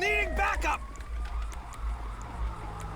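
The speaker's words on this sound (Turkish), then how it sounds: "ambulans geldi" An ambulance siren wails as the vehicle arrives in the GTA 5 video game, a steady tone under excited talk that cuts in loudly at the start, with engine rumble beneath.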